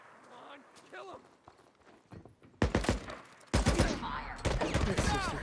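Gunfire during a firefight in the video game Days Gone: rapid bursts of loud, close shots follow shouted voices, with dense volleys filling the last few seconds.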